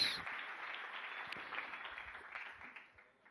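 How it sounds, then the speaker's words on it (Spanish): A church congregation at an Easter Sunday service claps together, a soft, distant wash of applause that slowly fades toward the end. "denle un fuerte aplauso al Rey de Reyes"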